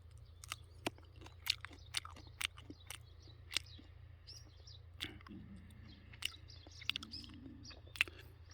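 Chewing raw bitter melon, soft close crunches and bites in an irregular rhythm, faint over a low steady hum with occasional chirps in the background.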